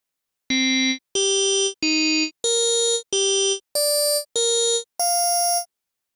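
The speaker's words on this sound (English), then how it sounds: "The result is a timbrally rich tone." Synclavier V software synthesizer plays a rich additive tone with drawn harmonic contours, sounding as eight separate sustained notes that step through different pitches and bright buzzy timbres, each clean and loud with short silences between.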